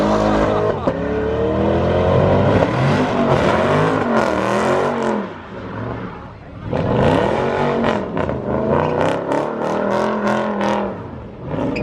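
A car revs repeatedly at a Memphis car show, loud throaty engine bursts rising and falling in waves across the clip, with a short lull in the middle and a few voices mixed in.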